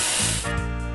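Spray booster effect in the Match Masters game, one loud hissing burst of spray that shifts in tone midway, heard alone.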